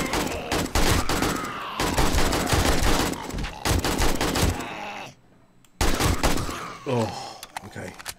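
Bursts of gunfire from the zombie survival game 7 Days To Die, loud and rapid, coming in several volleys separated by short pauses, with a brief silent gap before the shooting resumes.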